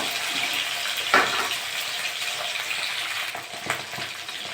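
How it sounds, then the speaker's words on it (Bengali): Small mourala fish fry in hot mustard oil in a kadai, giving a steady close hiss and crackle with a couple of louder spatters as the fish are stirred, and no voices. "মাছগুলো ভেজে নেব।"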